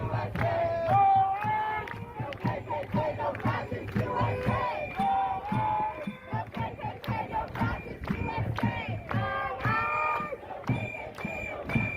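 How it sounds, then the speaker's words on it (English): A protest crowd outside a courthouse chants and shouts in loud, rhythmic bursts, many voices rising and falling together over a steady din of massed noise. "This is the entire crowd."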